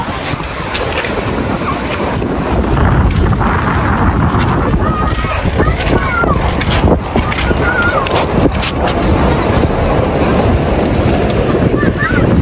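Strong wind gusts batter the microphone in a loud, continuous roar at a fish port in Infanta, Quezon, with water sloshing and faint voices beneath.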